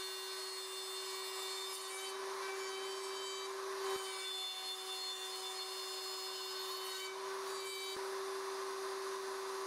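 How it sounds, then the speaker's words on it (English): A wood router cuts 3/4-inch box (finger) joints in a Leigh RTJ400 router table jig, a steady high whine running alone throughout with two brief dips near four and eight seconds. "Route in all template openings."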